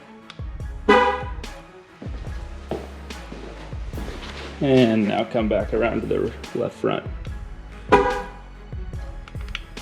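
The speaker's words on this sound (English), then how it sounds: "you can hear that double click or that double honk" A pickup truck horn gives a short, loud honk near the start and a double honk near the end, confirming a tire pressure sensor relearn, with someone talking in between.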